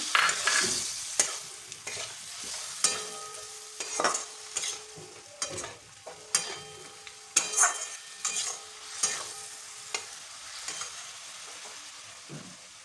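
Mustard paste water goes into a frying fish curry with potato and eggplant while a spoon stirs the pan, making close scraping clinks in an irregular rhythm over a soft bubbling sizzle, with no talk.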